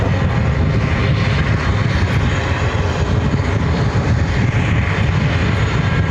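Airbus A330 airliner at JFK airport, a loud, steady broadband engine roar and rumble that holds level the whole time, with no talk over it.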